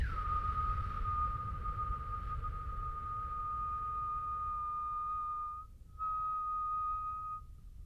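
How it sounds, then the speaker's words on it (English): A slow, steady exhale is voiced as a single sustained whistled tone, held for about five seconds, briefly broken, then resumed, close and clear over a faint low background hum. "I kind of whistled there for you because I wanted you to hear the breath"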